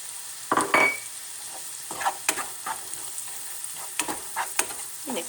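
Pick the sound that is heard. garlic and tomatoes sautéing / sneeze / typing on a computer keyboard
garlic and tomatoes sautéing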